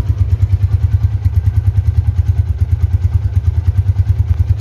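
A motorcycle engine idles close and loud with a steady thumping pulse, overlaid with a fast tapping tick and a jingling metallic rattle, with no talking.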